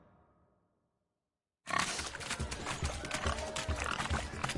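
Pigs grunt and oink in a rowdy, overlapping clamor during a pig race in The Witcher 3, bursting in loudly after a short quiet stretch, with a voice speaking briefly over the start.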